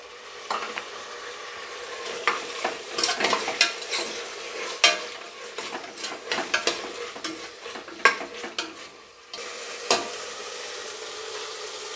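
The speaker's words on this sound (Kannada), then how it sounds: "ಇವಾಗ ನಾನು ಇದರಲ್ಲಿ ಟೊಮೊಟೊಸ್ ಆ್ಯಡ್ ಮಾಡ್ಕೊತಾ ಇದ್ದೀನಿ." Tomatoes stirred in a hot frying pan while making avarekalu (lima bean) rice bath: steady sizzling with frequent scraping, clinking stirs of a utensil against the pan, close and fairly loud, with no talking.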